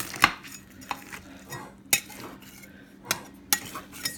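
Serving spoon clinking against a pot and plate while scooping chicken and noodles, a few sharp metallic taps spaced irregularly over faint background noise.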